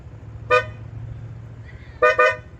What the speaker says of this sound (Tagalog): Pagkatapos mga Diaz, ito yung sa ating busina.